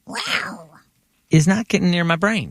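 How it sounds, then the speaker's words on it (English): A cat meows a couple of times, close and fairly loud, right after a short stretch of people talking, with the meows filling most of the second half. "That was a cat."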